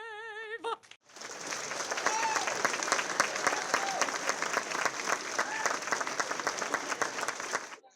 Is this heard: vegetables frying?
no